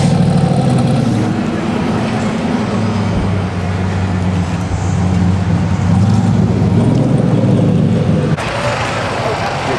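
Cars idling and rumbling at the Sick Week drag racing event, a loud steady engine drone with low throbbing tones, close and continuous, with faint voices underneath.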